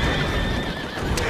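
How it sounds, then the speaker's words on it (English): A horse whinnies loudly and steadily in Assassin's Creed Syndicate, with clopping hooves and a bright, game-like sound quality, and no talking. "sorry for the horse noises and all that"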